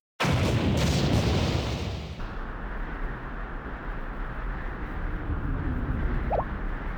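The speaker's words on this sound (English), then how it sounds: "An explosion?" In Blue Archive, an explosion effect strikes suddenly with a loud broadband blast, then settles into a long, steady rumbling roar that fills the rest of the moment.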